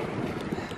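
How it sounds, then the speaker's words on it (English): Strong wind gusting over an open farm field, buffeting the microphone with a dense, rumbling roar for under a second. "This wind is terrible"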